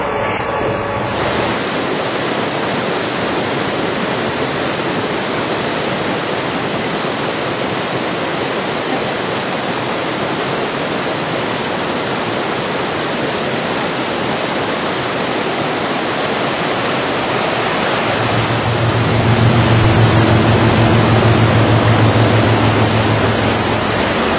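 Rushing creek water running high near Johnstown, a broad steady roar of flow filling the whole clip, near and continuous, with a deeper rumble swelling toward the end.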